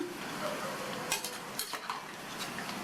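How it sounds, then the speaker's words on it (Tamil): Sliced snake gourd fries in a pan for a lunch dish. A soft, low sizzle runs underneath while a metal spoon stirs, giving several sharp clinks and scrapes against the pan. No one speaks. "நல்லா பரட்டி விட்டு புடலங்காய் நல்லா ஃப்ரை ஆயிடுச்சு"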